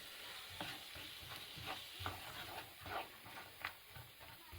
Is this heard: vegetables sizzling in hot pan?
yes